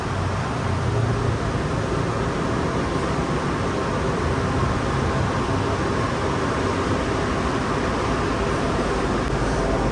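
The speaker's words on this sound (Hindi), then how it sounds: "इस साइड पे जो आ रही है सामने मेट्रो, इसमें बैठ के जाएंगे हम इंशाल्लाह" Metro train at a station in Kuala Lumpur, a steady loud rumble and hiss of rolling wheels and machinery that holds constant throughout, close by with no clear pauses.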